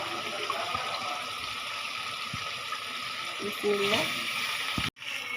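Chicken pieces drop into sizzling spice masala in a pan for Bengali chicken and potato jhol, giving a steady moderate frying hiss with a brief louder burst near the end and a voice talking faintly.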